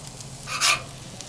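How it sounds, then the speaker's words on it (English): Onions and garlic sauteing on a Blackstone griddle: a soft, steady sizzle with one brief, brighter surge of frying hiss midway, heard alone and fairly quiet. "we're going to saute those onions up"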